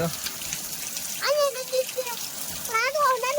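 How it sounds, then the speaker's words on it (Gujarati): A small river running in the rain makes a steady rushing wash under the whole stretch, while children's high voices call out over it in short bursts. "અહીંયા નદી છે"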